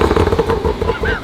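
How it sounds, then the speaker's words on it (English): Tuned BMW engine revving up close, a loud continuous rumble that surges and climbs in pitch toward the end. "give me one more rev"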